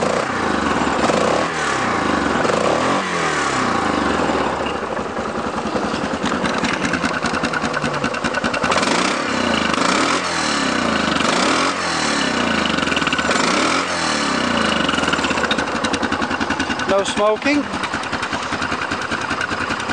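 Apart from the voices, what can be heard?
Yamaha Grizzly 660 single-cylinder ATV engine idling and revving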